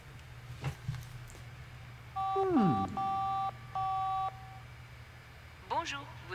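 Telephone dialing on a secure line: several distinct tone bursts in a row, steady electronic beeps separated by short gaps, with faint voices and rustling before and after.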